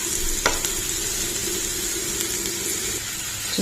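Ivy gourd frying with chili powder in a pan, a steady loud sizzle throughout with an occasional spoon tap while it is stirred, close, no talk.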